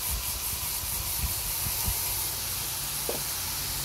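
Blanched cabbage goes into a hot pot and hisses and steams steadily, a soft continuous sizzle with a few light knocks from the pot.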